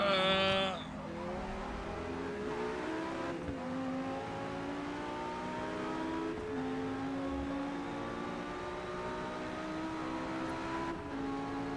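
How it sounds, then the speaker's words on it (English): A Ferrari race car in a racing game climbs through the revs, engine whine sweeping upward with repeated gear changes, steady and fairly close, no talking over it. "the Ferrari's gonna start taking off here"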